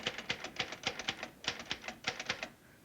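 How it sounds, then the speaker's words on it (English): An old typewriter in a 1955 French thriller film clacks steadily in quick bursts of sharp keystrokes, heard alone and fairly quiet. "The typewriter. His typewriter. That's what that is."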